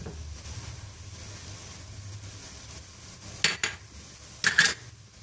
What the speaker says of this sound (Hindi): इन सबको मैं 4 टेबलस्पून दही में मिक्स करने लगी हूँ